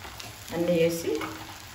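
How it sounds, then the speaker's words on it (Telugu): Spicy egg noodles tossed in a pan with green soy sauce, green chilli paste and red chilli paste give a short burst of sizzling and stirring, with a voice briefly audible over it. "బాగా కలపెట్టాలన్నమాట"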